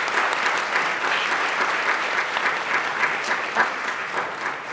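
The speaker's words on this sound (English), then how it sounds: "can we get one more round of applause for the panel?" Sustained applause from a conference audience for a panel discussion, a steady dense wash of many hands clapping together at moderate loudness, with no pauses or talking.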